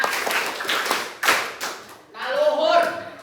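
Several crisp group claps land in a counted sequence at an education gathering, spaced out in a loose rhythm before a voice takes over and speaks.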